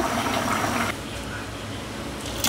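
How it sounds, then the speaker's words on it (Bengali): Curry is tipped from a cooking pot into a serving dish, giving a close, steady liquid gush that eases off partway through and then surges briefly at the end. "চলো আমি তরকারিটা অন্য একটি পাত্রে ঢেলে নেই।"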